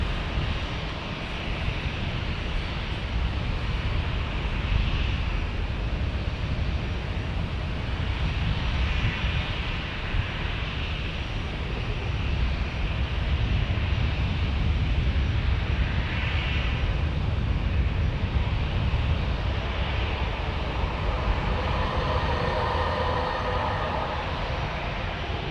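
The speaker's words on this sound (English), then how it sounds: "Ready for takeoff. Thrust forward." A jet airplane takes off in San Diego, its engines roaring loud and continuous across the whole stretch with a broad, steady rushing thrust and no voices.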